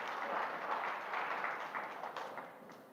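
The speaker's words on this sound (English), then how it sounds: "Big round of applause for our sponsors." Brief burst of audience applause for sponsors at a Maine Chamber event, a dense patter of many hands clapping that gradually fades over a few seconds.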